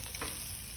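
Baby back ribs coated in barbecue sauce sizzle on a grill, a close, steady crackling hiss with a sharper burst at the end.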